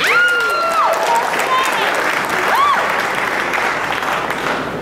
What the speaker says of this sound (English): The one that really needs applause is Jose.